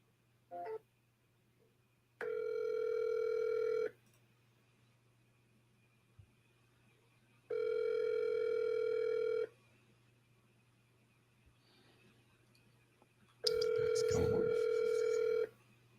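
A landline telephone plays its steady tonal signal in three long bursts separated by quiet gaps, close and clear, as an outgoing call is placed, with a few faint clicks in between.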